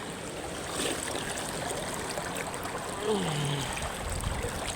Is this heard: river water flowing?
yes